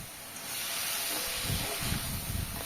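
Duck meat frying in an oil-free pan for an Assamese-style duck curry, a steady close hiss of steam and sizzle throughout with a few louder crackles toward the end, no voices.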